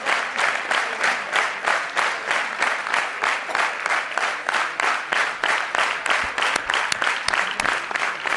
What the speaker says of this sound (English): I request the audience to have a huge round of applause for Mr.